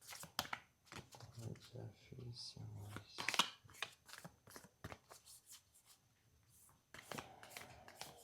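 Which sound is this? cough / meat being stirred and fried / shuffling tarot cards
shuffling tarot cards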